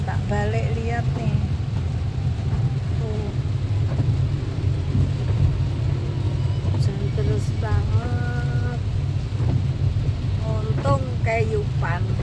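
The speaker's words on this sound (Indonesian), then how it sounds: "hujan deras banget" Heavy rain pours down in a steady, dense roar, with voices talking over it now and then.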